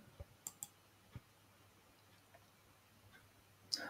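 Quiet, sparse computer mouse clicks, a few soft isolated ticks spread irregularly over a faint background hum, with one slightly sharper click near the end, as a send request button is pressed.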